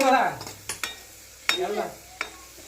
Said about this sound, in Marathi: मी ना असं लालसर होईपर्यंत तळते मस्तपैकी